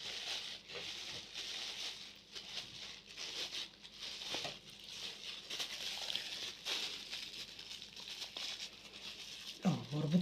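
A plastic bag holding strawberries crinkles and rustles close up as air is pressed out of it, in soft irregular bursts of crackling with a brief louder thump near the end.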